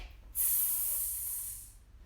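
A person imitates a snake during a kids' yoga session, giving one close, sustained breathy hiss of about a second and a half that fades at the end.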